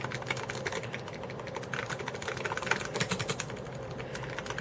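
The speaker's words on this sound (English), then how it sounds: "This Packard Bell keyboard has the BTC dome switches, which are definitely rubber dome" Typing on a Packard Bell keyboard with BTC rubber dome switches, a steady close run of soft, muffled keystrokes with small clusters of sharper clacks, no voices.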